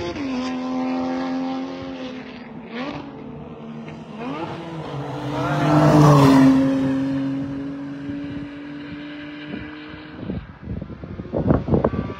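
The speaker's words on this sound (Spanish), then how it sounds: "aquí viene otro Porsche. No, este es un BMW." A BMW race car at the Carrera Panamericana drives past with a sustained engine drone. The engine shifts pitch and swells loudly as it passes close, then fades, and rougher revving noises follow.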